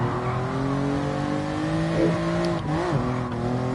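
Race car in the Gran Turismo Sport video game drones at steady high revs, with engine tones bending through gear changes and brief tire squeal around a corner, loud and close.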